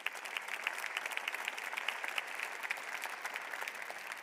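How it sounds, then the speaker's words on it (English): An audience at an AI summit conference claps for a panel in a steady round of applause, dense and even throughout, sounding distant and fairly soft. "please join me in giving our panel another round of applause"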